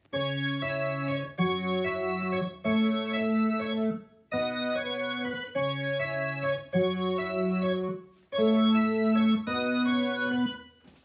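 Piano playing the chord pattern of a pop song, with sustained chords struck in repeating groups of three and short gaps between the phrases. The notes are clear and close, with no voice over them.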